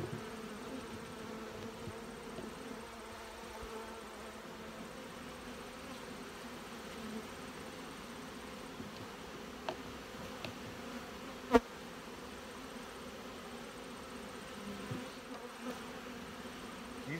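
Honey bees in an opened hive, at the center of the brood nest, buzz in a steady, dense, low drone close by, with a few faint clicks and knocks.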